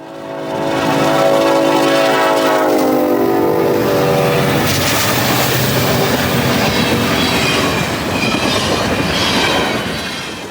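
A GE Dash 8 locomotive comes in fast at the head of a westbound manifest freight train in winter, loud and close, with a drawn-out horn, rumbling cars, clacking wheels and some squeal as it passes.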